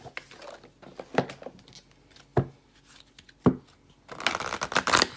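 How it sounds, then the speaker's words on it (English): Playing cards being shuffled: scattered sharp snaps and taps, then a rapid riffling flutter near the end, close and fairly quiet. "what I like to do is we'll shuffle"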